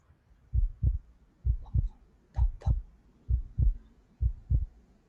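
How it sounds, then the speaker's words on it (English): Steady human heartbeat, close and clear, with paired lub-dub thumps repeating at an even, calm pace, five double beats with nothing else heard. "You're hearing the heartbeat."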